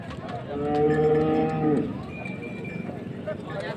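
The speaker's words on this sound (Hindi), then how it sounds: "देखें दूध वाली भैंस है" A dairy water buffalo at a cattle market in Shahdadpur, Sindh, gives one long, deep moo close by, swelling and then breaking off, with someone talking and market bustle around it.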